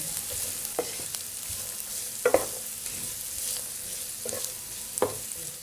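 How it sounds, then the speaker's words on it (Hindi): Finely chopped medium onions sizzle steadily in a pan while a utensil stirs them in a few distinct scraping strokes, close and clear with no talking. "इसको बारीक बारीक काट लिया, ये ऐड कर देंगे। हमने प्याज का हल्का सा कलर चेंज करना है।"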